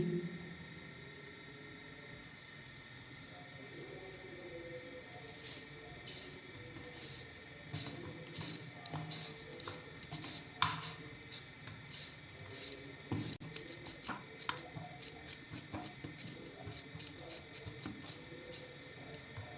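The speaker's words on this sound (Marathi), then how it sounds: "तर सर्वात पहिले बटाट्यांची साल काढून घ्यायची." Thin-skinned potatoes are peeled by hand for homemade chips: soft, quiet scraping strokes repeat in a loose rhythm after a quiet opening, close and faint against a low room hum.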